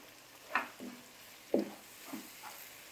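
Chopped green chillies go into a pan of softened tomatoes, giving a quiet sizzle with a few soft stirring scrapes at intervals and no talking.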